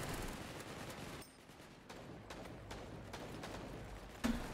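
Pistol and SMG fire in the sci-fi shooter Wormhole Wars, faint scattered cracks and short bursts at irregular intervals over low background noise, ending in one sharper, louder shot.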